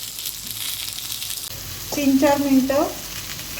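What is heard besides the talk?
catla fish frying in a pan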